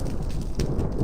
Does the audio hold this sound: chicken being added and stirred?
no